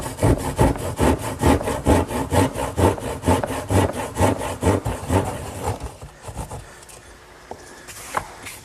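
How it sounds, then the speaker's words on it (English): An old hand saw cuts the corners of a wooden panel for a Shaker blanket chest, giving loud, rhythmic back-and-forth rasping strokes for about six seconds, then stopping and leaving quiet room noise with a faint knock. "now I'll just finish off the corners using my trusty old hand saw"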